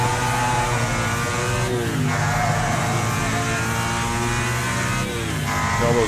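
A race car engine in Wreckfest revs hard and loud, its buzzing harmonic drone rising and falling in pitch as the rear end spins out under heavy throttle.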